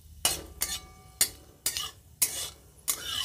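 Spice tempering with chilli frying in a pan for tomato chutney, stirred with a utensil: six distinct scraping sweeps at a roughly steady pace, each with a brief sizzle, close and quiet with no talking.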